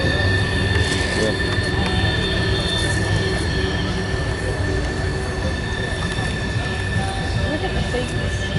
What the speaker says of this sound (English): I can even see the train coming now